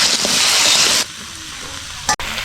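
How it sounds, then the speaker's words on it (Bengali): Vegetables sauté in hot oil with salt and turmeric, a loud, dense sizzle for about a second before dropping to a quieter crackle, with a sharp stirring scrape near the end. "বন্ধুরা আমার সবজি কষানো হয়ে গেছে"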